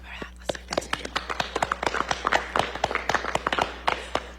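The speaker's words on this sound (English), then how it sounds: "Let's clap our hands." An audience at a City of Lincoln workforce initiative announcement claps hands, a close, lively burst of sharp individual claps that builds into a dense patter and then thins out over a low steady hum.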